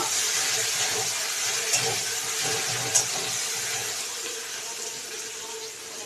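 Chopped onions sizzle and hiss steadily in a hot pan while being fried until reddish-brown, a continuous broadband crackle with a couple of faint clinks of stirring, no voices.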